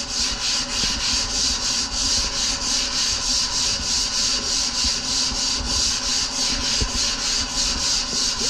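Repeated rhythmic rasping strokes as a surfboard blank is shaped by hand, steady and close, a sanding or filing rub about three times per second without talk.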